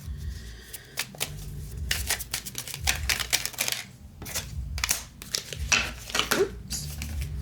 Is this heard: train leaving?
no